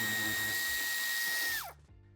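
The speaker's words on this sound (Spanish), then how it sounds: "Y quitamos el tornillo." A power screwdriver backs a screw out of the plastic front bumper of a BMW X7 G07 (2019-2022). It gives a steady, fairly loud whine, then winds down in falling pitch near the end.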